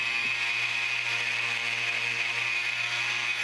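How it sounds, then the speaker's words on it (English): Dremel rotary tool running at its lowest speed while sanding and grinding fine wrinkles on a model rhino, a steady high-pitched whine held unbroken and close throughout. "I'm letting the Dremel do the work."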